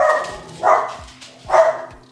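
A pet dog indoors, noted as unwell, gives two loud, close barks about a second apart, each a short burst with a whimpering edge, with quiet room sound between them.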